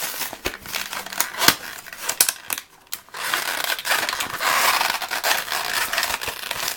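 Plastic packaging for a Tsum Tsum squishy toy is crinkled and torn open up close, with irregular rustling, crackling and rubbing that grows into a denser, steadier crinkle toward the end.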